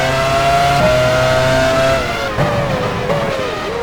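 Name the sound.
Formula 1 car driving into the pit lane, from the video game F1 Challenge 99-02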